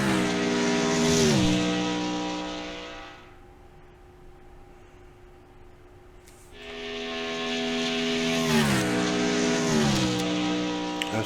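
NASCAR stock cars roar around Talladega in the Wreckfest racing game, loud engine drones rising and falling as cars sweep past, easing off midway before surging back with shifting pitch.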